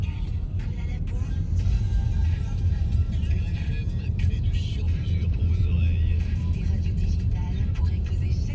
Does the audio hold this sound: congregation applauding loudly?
no